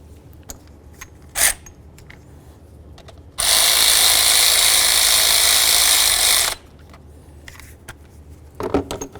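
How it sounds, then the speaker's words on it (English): A ratchet tightens the idler pulley bolt on a 2003–2009 Mercedes E320 engine. A sharp click comes first, then a loud, steady burst of ratcheting lasting about three seconds, close by, followed by quieter handling noises. "Just going to make sure it's tight with the ratchet."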